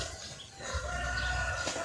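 Chickens cluck around a rural garden near rice fields while a rooster crows with a drawn-out call, close and fairly loud over a constant outdoor background.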